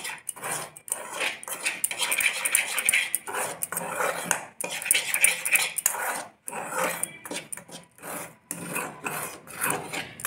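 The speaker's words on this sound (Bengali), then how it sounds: "আর দিয়ে দেব একটুখানি হলুদ গুঁড়ো রং আনার জন্য। এবার এগুলোকে ভালো করে মেশাবো।" Dhokla batter stirred with turmeric powder in a bowl, a busy rasping scrape of spoon against the bowl repeating in uneven strokes, close and fairly loud, with no speech.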